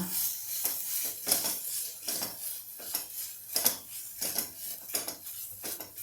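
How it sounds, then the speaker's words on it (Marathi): Corn kernels are stirred in a pan with a utensil, giving a repeated scraping and rattling about once every 0.7 seconds, close and fairly quiet, with no talk. "थोडे मक्याचे दाणे मी यामध्ये टाकत आहे याला छान हलवून घेऊया"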